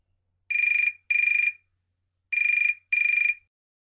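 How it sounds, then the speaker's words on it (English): A mobile phone ringtone plays alone in two pairs of short electronic trilling bursts, loud and close, with a brief pause between the pairs. "Lucy's mobile phone is ringing."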